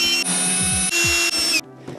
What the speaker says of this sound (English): you can use a drill as well, which is good.